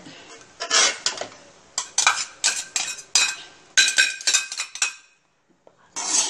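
Fried rice with fried egg being stirred in a pan: a brisk run of about a dozen metallic scrapes and clinks, loud and close, then a brief pause before another burst of stirring.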